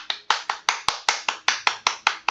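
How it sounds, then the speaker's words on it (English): A small group claps in a quick, regular burst of about a dozen sharp, close hand claps, evenly spaced and alone without any talking. "Round of applause number 2."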